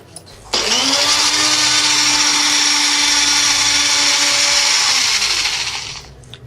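An electric mixer grinding aloe vera with olive oil into a smooth paste, a loud steady whirring drone that starts abruptly, runs for about five seconds and winds down.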